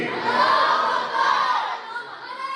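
A crowd at a Shia religious celebration (Jashan) in Multan chants back the slogan Nara-e-Takbeer, a loud massed roar of voices that swells and dips over a couple of seconds.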